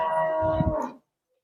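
A young water buffalo calf gives a single short, tonal moo close by, lasting about a second before cutting off into silence.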